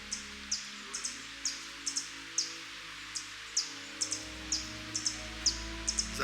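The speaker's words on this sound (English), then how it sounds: "I hear birds." Short, sharp bird chirps in a Costa Rican mountain forest, repeating at a quick, slightly uneven rhythm, faint and thin over a quiet background.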